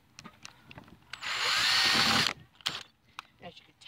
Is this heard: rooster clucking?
no